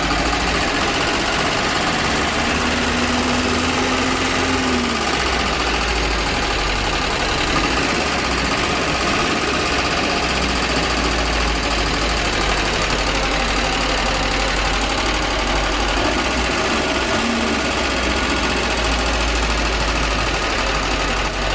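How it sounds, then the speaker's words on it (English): Tempo Wiking Rapid camper van's engine idling after being started with the starter button, a steady low, close rumble running throughout with a slight knocking vibration and no speech. "Starting the engine, I use the starter button, and that should make it turn."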